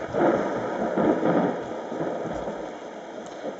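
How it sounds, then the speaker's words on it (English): Thunder setting on a HoMedics SoundSpa white noise machine: a steady, dense rumbling wash like rain and storm, with soft swells of low rolling noise and no distinct sharp cracks, continuous and moderately loud throughout. "Thunder."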